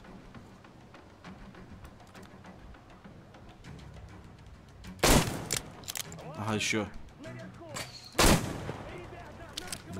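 Sharp gunshots crack out in a few loud bursts in the video game Metro Exodus, with scattered shots in the background, as people talk over the action.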